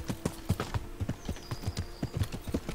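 Steady, rhythmic hoof clip-clop of a horse being ridden through a forest in the medieval game Kingdom Come: Deliverance, close and even-paced, with a brief high tone in the background and no talk.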